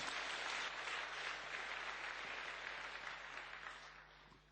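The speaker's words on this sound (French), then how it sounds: "je vous demande de les applaudir encore une fois très fort pour ces présentations très réussies" An audience at a Euroscola youth session applauds a set of presentations, a steady, even wash of clapping heard faint and distant, slowly tapering toward the end.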